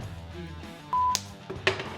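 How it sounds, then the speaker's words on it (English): A phone gives off short electronic tones: a steady beep held for a moment, followed by a couple of quick bright chirps over a low background hum. "What's that? That's Ernie's phone"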